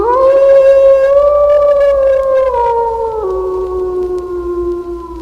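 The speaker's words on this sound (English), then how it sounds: "The howl of the threatening wolf" A lone wolf's long, sustained howl rises and then falls in pitch, loud and unbroken for about five seconds with rich harmonics and a clear drop in tone near the end.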